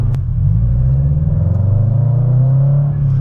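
Subaru BRZ with an HKS dual resonated front pipe and Speed by Design overpipe, stage 2 with unequal-length headers on E85, holds a steady deep exhaust drone and rumble under light throttle, close up with no talk.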